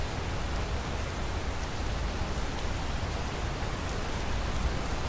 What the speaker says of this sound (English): I think the way this rain looks is okay.